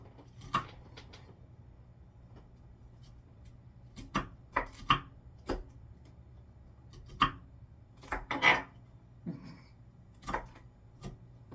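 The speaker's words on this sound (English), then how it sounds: "What I'm doing is taking the strings and going like this and chopping them down." A knife chops cabbage strings for homemade sauerkraut, sharp irregular thuds on a board, some single and some in quick pairs, close and clear against a quiet background.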